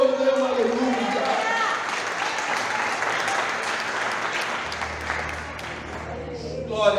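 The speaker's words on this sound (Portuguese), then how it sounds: "Aplauda o Senhor e dê uma aleluia." Church congregation applauding during a conference service, a broad sustained burst of clapping that fills the room, with a voice speaking at the start and end over the fading applause.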